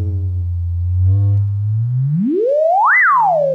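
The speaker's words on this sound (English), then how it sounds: "let's have a listen to the pure tones" Pure electronic tones from Bruel & Kjaer test equipment run through a mixer: a low steady hum that sweeps upward into a rising, then falling whistle-like chirp before settling on a low tone, loud and clean with no voices.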